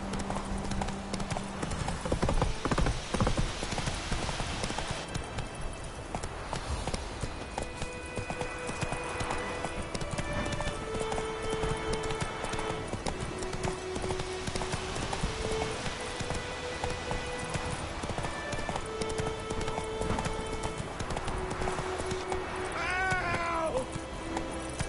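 Roach the horse from The Witcher 3 game galloping in a steady, continuous clip-clop of hooves, alongside game music and occasional cat meows.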